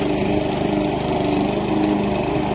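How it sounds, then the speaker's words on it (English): A riding lawn mower runs steadily nearby, its engine a constant loud drone with no breaks and no talk. "while I'm riding or mowing"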